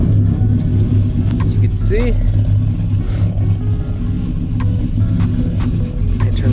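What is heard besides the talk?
pickup truck engine starting and running after U-joint repair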